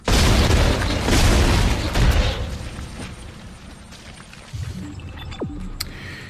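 Gunfire at a necromorph in the video game Dead Space, heavy booming blasts and bursts that fade into lower game ambience with a few sharp impacts near the end.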